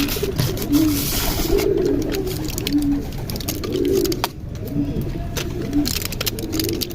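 A pigeon with an eye ailment coos in soft, repeated low murmurs close by, over a rough, noisy background.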